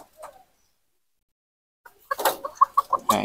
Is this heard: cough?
no